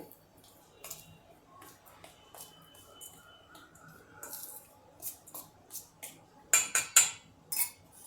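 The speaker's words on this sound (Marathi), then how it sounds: "हे तीळ आणि ही दाण्याची पावडर हे सगळं आता थोडंसं मिक्स करून घेते" Sesame seeds and peanut powder stirred together in a bowl, soft scraping and intermittent clinks of a spoon against the bowl, quiet at first and growing sharper near the end.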